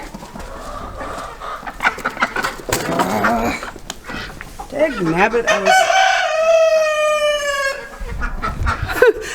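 Backyard chickens cluck loudly and close, and a long, drawn-out crowing call rises in the middle while a person talks over the birds.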